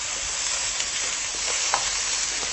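Leek sizzles steadily in a hot frying pan without added fat, a continuous crackling hiss with occasional louder pops.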